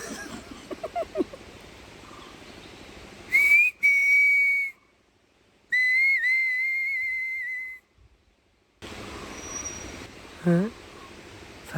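A person imitates a bird call by whistling in a Wayanad cardamom plantation in Kerala, giving two clear, sustained high whistles separated by a pause, with faint chatter and rustling before and after.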